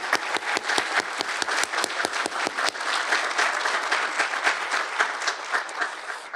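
An audience at a university business college master's hooding ceremony applauds, several sharp distinct claps at first giving way to a dense, steady round of clapping that tapers slightly at the end.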